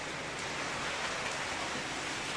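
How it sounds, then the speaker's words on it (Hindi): Heavy rain that has started suddenly pours down in a dense, even hiss, steady and fairly close throughout with no voices. "अचानक बारिश शुरू हो गया है, बहुत तेज बारिश शुरू हो गया है।"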